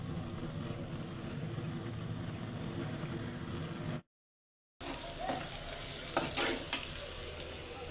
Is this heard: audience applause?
no